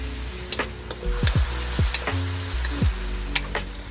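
Pork and sauerkraut sizzle steadily in a hot pan in Korean barbecue marinade with green onions. A spatula scrapes and clinks repeatedly while the stir-fry is stirred, all close and continuous.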